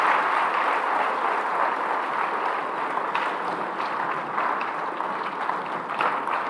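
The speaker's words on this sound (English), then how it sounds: "Here's a big round of applause." Steady applause from a large audience at the Inclusive Fintech Forum opening ceremony in Kigali, dense clapping sustained at an even level throughout with no voices standing out.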